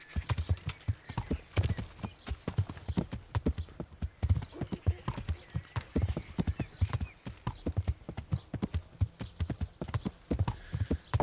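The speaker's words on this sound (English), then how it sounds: "Let's call a horse." Steady clip-clopping of horse hooves at a brisk trot in the video game Kingdom Come: Deliverance, continuous and fairly close, with a faint whinny and scattered game sounds in the background.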